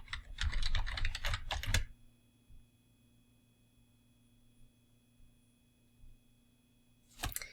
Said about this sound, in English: actually let me just type it because it'll be faster